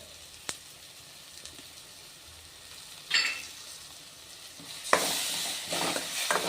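Masala for an okra gravy frying in a pan, a quiet sizzle broken by a few scraping stirs of the spoon, then louder bursts of hissing toward the end.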